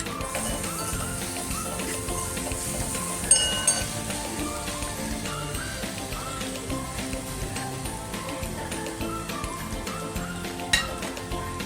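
Garlic and a moistened green chilli and cumin chutney sauté in a pan, a steady low sizzle with scattered clinks and scrapes of a spatula against the metal throughout, close and continuous, with no talking.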